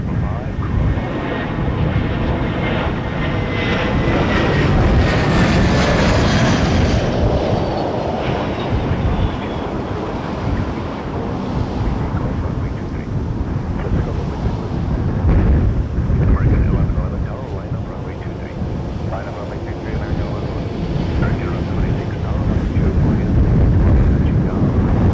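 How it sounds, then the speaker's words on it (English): Air Canada Airbus A320 jet at Toronto Pearson Airport, a long, loud rumbling roar with a descending whine that fills the whole stretch, while a person talks over it. "That was Air Canada 144 from Calgary on a 320."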